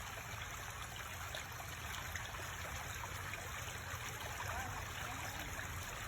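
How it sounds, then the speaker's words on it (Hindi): A river flows with a soft, constant rushing and trickling of water, faint and even throughout, with no voices. "ये तो बस नदी ही बोल रही है"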